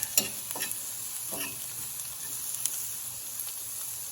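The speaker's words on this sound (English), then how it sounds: "Listen to that sizzle." Fish fillets and onions sizzling steadily in a pan at a campsite, a constant crackling hiss with occasional soft pops and clinks, fairly quiet and close.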